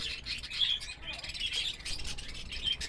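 Small caged birds, such as parakeets, chirp and tweet in a backyard setting of homemade DIY cages, with repeated high calls and busy bright twittering going on continuously at close range.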